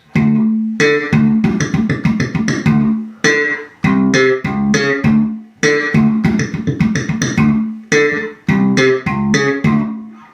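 A melodic bass guitar line played alone, plucked notes in steady rhythm with brief pauses between phrases, close and clear.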